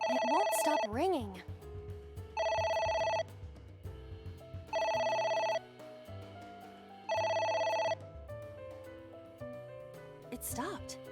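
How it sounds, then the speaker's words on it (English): A telephone rings insistently in the video game AI: The Somnium Files, three evenly spaced loud electronic bursts, with speech in between and at the start and end. "It won't stop ringing."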